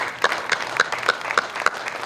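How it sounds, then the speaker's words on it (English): A small audience at a state fair opening ceremony claps for the board of directors, a short burst of fairly rhythmic, distinct claps at a steady pace, moderately close. "So, if you give my board of directors a round of applause."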